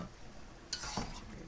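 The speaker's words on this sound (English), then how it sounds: "Stir it up." A spoon stirring pork afritada stew in a pot, a quiet bed of simmering followed by a couple of brief scraping strokes near the end, close by.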